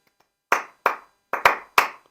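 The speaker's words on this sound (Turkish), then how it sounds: "şarkı söyleyen el çırpıyor böyle" A flamenco singer claps hands in rhythm: five sharp, close claps with a short irregular pattern, two landing in quick succession near the end, with no other sound.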